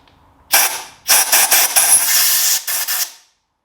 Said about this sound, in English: we're now drilling into what was originally the end of the stud